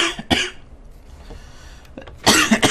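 Harsh coughing bursts from a man playing Resident Evil 0 HD while sick, a pair of close coughs at the start and a louder cluster near the end, with a quiet gap between.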